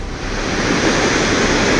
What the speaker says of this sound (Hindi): पहाड़ पर बादल फटने के बाद भूरे रंग का यह सैलाब तेजी से नीचे गिरता दिखाई दे रहा है।